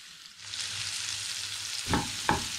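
Chilli flakes, Italian mixed herbs and paprika sizzling in hot olive oil in a pan, a soft steady frying hiss with a couple of scraping stirs near the end.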